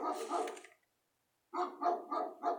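Several dogs barking at night, short rapid bursts of barks in two clusters separated by a second of silence, fairly loud and close, with no talking.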